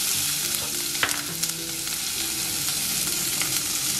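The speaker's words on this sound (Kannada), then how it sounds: "1/2 kg ಅಷ್ಟು ಮುಳ್ಳಂಗಿ ಹಾಕೊಂಡು ಕಲ್ಸ್ಕೋಬೇಕು." Chopped radish and onion stir-fried in a pan for radish sambar, a steady close sizzle with scraping stirs and a few sharp clicks of the utensil, no voices.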